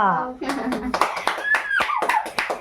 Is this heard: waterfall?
no